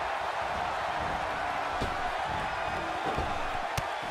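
A virtual arena crowd roars in the wrestling video game WWE 2K18, a steady, loud wall of cheering broken by a couple of sharp impact thuds.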